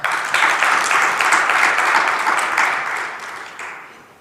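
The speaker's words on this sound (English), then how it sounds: "Round of applause for that." An audience at the BBCBE Indaba 2024 conference breaks into loud applause right away, a dense wash of clapping that holds steady and then gradually tapers off.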